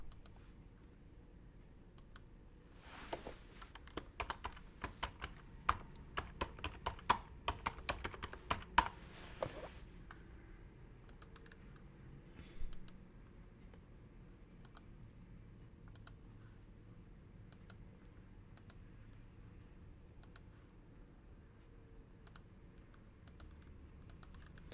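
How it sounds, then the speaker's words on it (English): Keystrokes on a computer keyboard, a quick flurry of close, crisp taps for several seconds, then sparse single clicks spread out over the rest of the quiet stretch, with no talking. "I'm going to type in here resistance channel."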